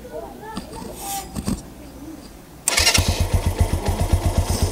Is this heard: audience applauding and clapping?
no